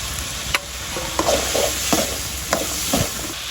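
Chopped onion sizzling in a pan with turmeric during village-style cooking, a spatula scraping and stirring in quick repeated strokes over a constant close frying hiss.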